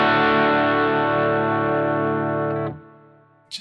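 An electric guitar played through a Boss GT-1000CORE preamp model with boosted volume rings out as one loud, sustained, distorted chord that decays before being cut off, followed by a short burst of a fresh attack.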